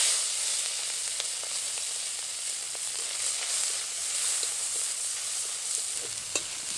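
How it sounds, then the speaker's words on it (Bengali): Large prawns sizzle in hot oil, a steady bright crackling hiss that holds for several seconds with small pops scattered through it, close and unbroken, with no voices. "এই চিংড়িগুলো ভেজে নেব"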